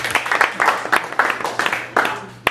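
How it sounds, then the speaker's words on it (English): Audience applause and clapping at a Shakespeare After Dark theatre show on St. Patrick's Day, with bursts of claps and some cheering voices rising and falling over about two and a half seconds, ending in a sharp final clap. "And by another round of applause,"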